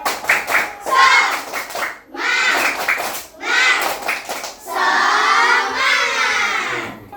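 Schoolchildren in a classroom perform a rhythmic spirit clap, with bursts of sharp group clapping alternating with loud chanted shouts from many young voices, close and energetic.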